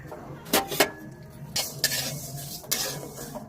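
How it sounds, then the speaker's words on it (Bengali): Lentils dry-frying in a pan for khichuri, stirred with a utensil that gives several sharp scraping clatters over a faint background hiss, with no one speaking. "ডালটা একটু ভালো করে ভাজা হবে"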